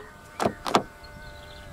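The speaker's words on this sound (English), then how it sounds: "To lock the car, press the indentation on any of the front door handles." Locking a 2019 Proton X70 1.8 TGDi with keyless entry at the front door handle produces two quick close mechanical clunks about a third of a second apart, followed by a faint electronic tone.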